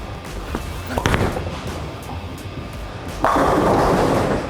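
A bowling ball strikes the pins on a lane, a sudden loud clattering crash after some quieter lane noise and faint alley chatter in the background.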